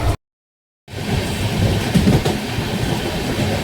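The Netaji Express on the Kalka to Howrah route rumbles loudly along the rails in a steady, dense roar, heard close after a brief moment of silence, with no talk.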